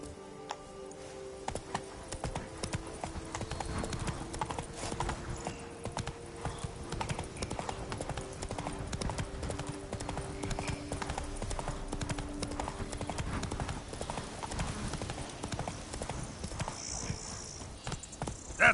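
Roach the horse galloping in The Witcher 3, rapid rhythmic hoof clip-clops repeating steadily throughout at moderate loudness, with faint background game sounds.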